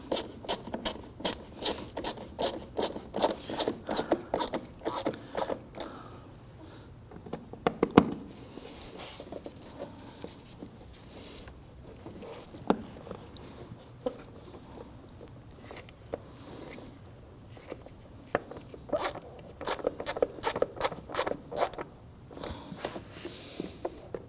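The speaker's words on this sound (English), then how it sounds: "let's go ahead and secure the screws on our lid box here" Screws are driven into the thermostat housing lid box on a 2009-2017 Volvo XC60 3.2L inline-six, a fast clicking ratchet in bursts broken by quieter stretches of tool handling and small knocks.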